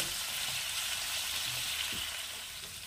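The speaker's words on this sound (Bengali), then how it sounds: "এবার একটু সবজিগুলোকে সবকটা একসঙ্গে একটুখানি অল্প একটু সাঁতলে নেব।" Drumstick and chopped bottle gourd sautéing together in a pan for a fish curry, giving a steady, moderately quiet sizzle with a few soft stirring scrapes.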